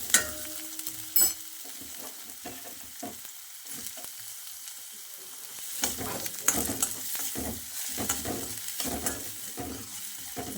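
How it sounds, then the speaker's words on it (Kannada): Half a kilo of chicken frying in a pan of oil with cinnamon, cardamom, cloves and onion for chicken sambar, sizzling close by with frequent spatula scrapes and stirring clatter. "ಕಾವಲಿಗೆ ಎಣ್ಣೆ ಹಾಕಿ ಇದಕ್ಕೆ ಸ್ಪೈಸಸ್ ಚಕ್ಕೆ ಏಲಕ್ಕಿ ಲವಂಗ ಈರುಳ್ಳಿ ಹಾಕಿ ಫ್ರೈ ಮಾಡಲಿಕ್ಕೆ ಇಟ್ಟಿದ್ದು"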